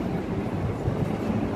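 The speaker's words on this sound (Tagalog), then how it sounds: "Ito, may train dito parating." A connecting train between Las Vegas hotels arrives with a steady, close, low rumble of rolling wheels and carriages, heard alone without talk.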